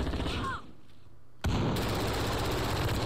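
Call of Duty: Modern Warfare gunfire on the Killhouse map, a brief muffled lull giving way to a sudden loud burst of shots and sustained dense gunfire noise that continues to the end.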